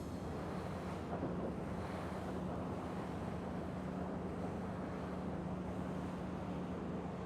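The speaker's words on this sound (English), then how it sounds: "I want to understand if these diesel engines are too noisy" Marine Mito 45 motor yacht cruising at 25 knots on diesel engines, heard from aboard as a steady, even roar of engine drone mixed with rushing water and wind, constant and unbroken with no voices.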